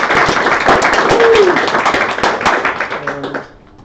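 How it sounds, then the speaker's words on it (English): A conference audience at an AI-in-games panel gives a brief round of applause that fades out near the end, with a few voices under it. "let's give them a round of applause."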